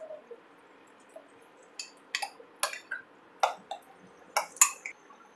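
Yogurt being mixed into mashed eggplant for a garlic and eggplant bharta, heard as a spoon clinking and tapping against a bowl in a series of sharp, close knocks with quiet gaps between.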